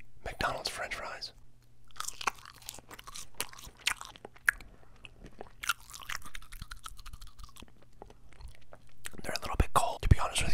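McDonald's French fries, a little cold, being chewed close to the mic in soft, crunchy bursts between pauses, with whispered talk running alongside.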